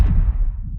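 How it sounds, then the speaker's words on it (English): Layered wet, liquidy sci-fi sputter textures with heavy low-frequency effects: a brief loud bubbling, gurgling burst with deep rumble that fades out within a second, no voices. "these kind of wet, liquidy sci-fi sounds that are very modern"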